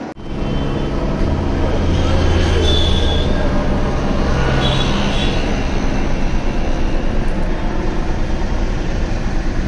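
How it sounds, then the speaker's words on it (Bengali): Helicopters at a helipad on a pilgrimage route drone loudly and continuously with a broad steady rotor and engine roar, heard close with no talk over it. "এই দেখো চারিদিকে হেলিকপ্টার।"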